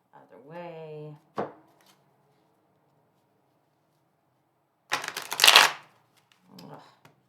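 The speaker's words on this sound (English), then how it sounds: "Let's do one of the regular shuffles." Two short bursts of tarot cards being shuffled, the first brief and the second a longer riffling rush, separated by silence, with faint voice near the start.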